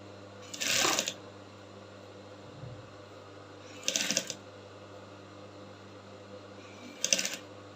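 Sewing machine stitching the yoke line of a bustier, heard as three short bursts of rapid mechanical stitching spaced a few seconds apart over a steady low hum, close and clear with no talk.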